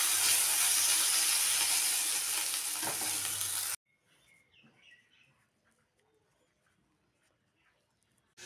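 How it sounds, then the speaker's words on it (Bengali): Potatoes frying and being stirred in a pan, a loud steady sizzle with scraping for a few seconds that cuts off abruptly, followed by quiet room sound with faint birdsong. "আলু ভাজা"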